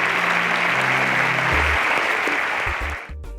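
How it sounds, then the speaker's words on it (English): A crowd claps steadily in a loud, sustained round of applause that fades out at the end, as contestants exit the stage at a televised competition semi-final in Nigeria. "A round of applause for them as they exit the stage."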